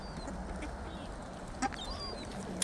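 Ducks and other waterfowl gather to be fed in Canarsie Park, giving a few scattered quacks and calls over a continuous outdoor background rumble, moderately distant and without nearby talk.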